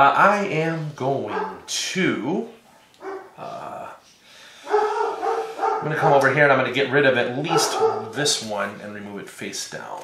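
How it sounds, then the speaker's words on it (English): A pet dog barks in the background of a home tabletop card game session, several short yips and barks breaking through while someone talks steadily over them in the foreground. "we have a dog who likes to bark"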